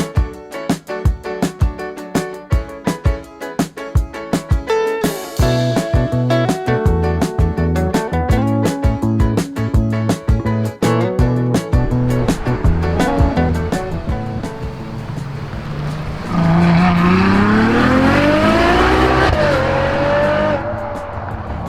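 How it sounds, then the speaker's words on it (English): A Likeaswede V12 four-wheel-drive car is driven hard, its engine loud and close, revving through rapid gear changes and rising pulls, with tyres squealing toward the end and no talking. "So the Likeaswede is a fantastic car to drive."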